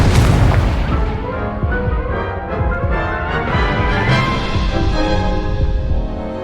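Incendio fire spell cast in the Hogwarts Legacy video game, a loud booming blast with a crackling, roaring burst that swells and sustains throughout, dense and full without any voices.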